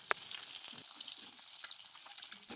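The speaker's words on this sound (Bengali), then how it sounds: "মেখে রাখা ডিমগুলো বা কেটে রাখা ডিমগুলো এক এক করে তেলের মধ্যে দিয়ে দিব।" Cut, spice-coated boiled eggs fry in hot oil in a pan with a quiet, close sizzle broken by scattered small pops and light clicks, and no one speaks.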